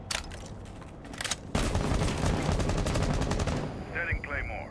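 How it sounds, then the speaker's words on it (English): Gunfire exchange in the tactical shooter video game Rainbow Six during a college match, opening with a few sharp shots, then a sustained rapid burst of automatic fire, ending with faint electronic chirps. "there's going to be some gunfire exchanged."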